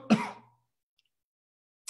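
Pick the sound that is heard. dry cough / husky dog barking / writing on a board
dry cough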